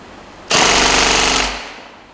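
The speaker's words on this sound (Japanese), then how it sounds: "それではフルオートで発射サイクルを測ります" A G&G SSG-1 airsoft gun fires a single full-auto burst of about one second, a loud rapid buzzing rattle of shots at a very high cycle rate, followed by a short fading mechanical whir.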